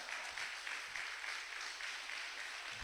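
A church congregation at a Sunday service claps together in a steady, rhythmic pulse, heard at moderate distance with a roomy, sustained wash of sound.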